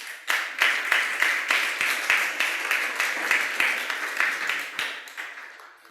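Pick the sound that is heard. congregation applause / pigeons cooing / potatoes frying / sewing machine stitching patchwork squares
congregation applause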